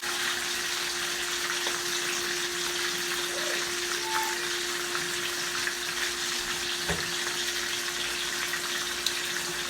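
Hamburger steaks fry in a skillet with a continuous loud, even sizzle and a faint electrical hum, broken only by a couple of small knocks, no speech.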